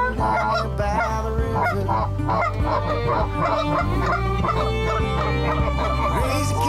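Geese and ducks calling during a waterfowl hunt from a pit blind, a busy flock of honks and gabbling calls overlapping in quick succession, loud and fairly close, continuing without pause.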